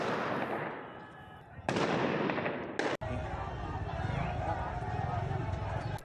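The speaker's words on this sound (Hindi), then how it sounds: "गोलियों की आवाज आपने सुनी होगी, ग्रेनेड चलाए गए हैं" Gunfire and grenade blasts aimed at protesters in Quetta, heard as sharp loud bangs and cracks over a noisy crowd, with an abrupt blast near the middle, while voices shout throughout.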